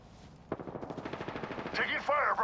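Rapid automatic gunfire rattles steadily in a shooter video game, close and dense, with brief voice-like game sounds near the end.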